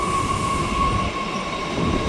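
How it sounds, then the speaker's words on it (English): A train passing through a station on a French rail journey between Boulogne-sur-Mer and Dunkerque, a steady loud rolling rumble with a sustained metallic wheel squeal running throughout, close by and with no talk. "Here comes the train."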